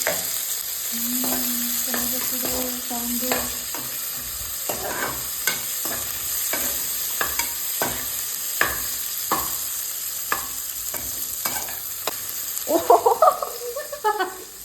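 Onions fry in a pan for paneer pulao, a constant close sizzle broken by repeated scraping stirs of a spoon, with a brief low hum early on and louder clattering near the end.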